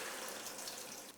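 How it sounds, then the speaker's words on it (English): Water pours into a pot of vegetables in a steady, hissing rush that stays close and fairly quiet for about a second before stopping. "I'll add some water."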